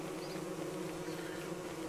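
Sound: bees buzzing in the video game Don't Starve Shipwrecked

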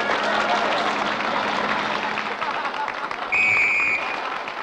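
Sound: circus audience applause

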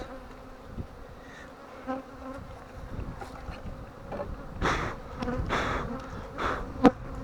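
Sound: honey bees buzzing around hive

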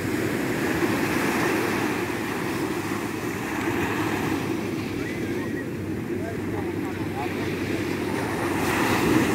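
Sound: ocean waves at the beach

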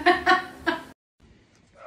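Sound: chickens clucking

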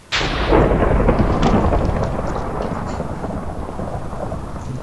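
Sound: lightning thunder in Minecraft survival games video game

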